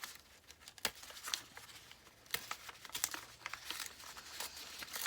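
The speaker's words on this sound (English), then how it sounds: "I'm going to tear across." Material is torn by hand in short, close rasping rips and crinkles, one sharp snap early and then clusters of quieter ripping bursts that grow busier toward the end, with no voice.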